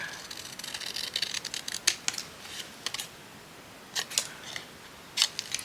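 Scissors snip the corners of a craft piece in quick, crisp cuts, several bright snips in irregular clusters, close and fairly quiet with no talking.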